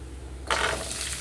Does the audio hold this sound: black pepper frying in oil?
yes